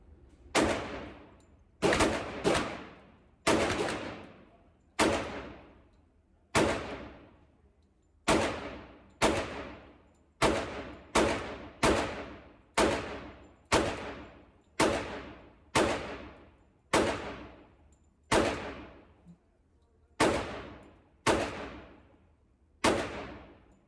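Pistol fitted with a Grizzly Gunworks Mini Ghost compensator firing outdoors, about two dozen sharp, loud shots in irregular strings, some in quick pairs and some spaced apart, each with a short decaying echo.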